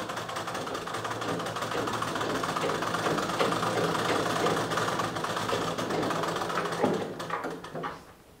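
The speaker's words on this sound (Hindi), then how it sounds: "देखो दूसरा जो पीस है इसको भी ऐसे ही बिल्कुल पलटा करके ऊपर से एक सिलाई लगा दें।" A sewing machine runs continuously, stitching a blouse piece, a close steady mechanical whirr with a rhythmic rattle that slows and fades at the end.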